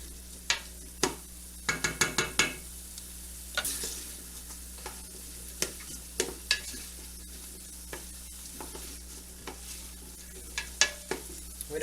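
Minced garlic sizzles softly in a soup pot as it is stirred constantly, with quiet frying crackle under a string of sharp spoon taps and scrapes, close and fairly faint, with no voices.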